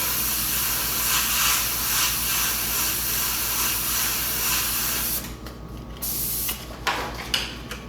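An airbrush sprays black paint onto model rivets on a metallic surface. A steady close hiss runs for about five seconds, then breaks into shorter bursts with brief gaps, and no one talks.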